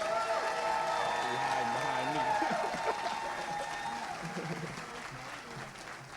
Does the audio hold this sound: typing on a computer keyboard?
no